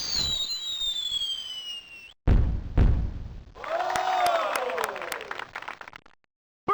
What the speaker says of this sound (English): You're making beautiful fireworks!